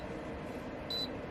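A single short electronic beep rings out from a small two-button dehumidifier aboard a sailboat, clear and close over a low steady room hum with no talking.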